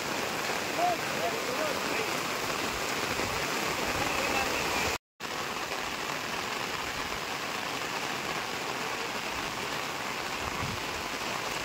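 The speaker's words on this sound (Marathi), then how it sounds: "पाऊस तर खूप आहे" Steady, dense monsoon rainfall hisses evenly and loudly outdoors in misty hills, broken only by a split-second cut partway through.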